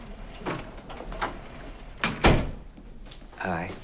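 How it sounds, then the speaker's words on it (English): A door shuts with a single solid thunk midway through, set among indoor movement and people talking. "Close the door."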